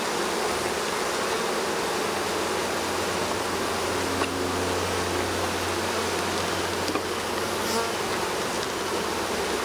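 Dense, continuous buzzing of many bees surrounds a top bar hive inspection, a steady near swarm hum with faint occasional knocks.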